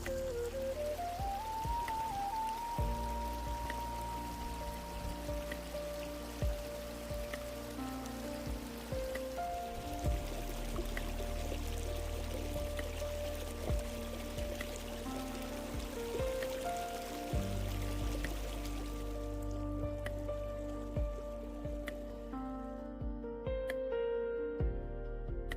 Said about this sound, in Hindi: पहाड़ों से गिरता ये साफ पानी और उसकी आवाज़